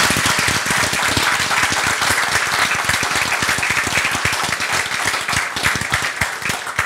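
An audience thanks a presenter after a nature reserve talk with sustained, dense applause, many hands clapping loudly and evenly throughout with no voices over it.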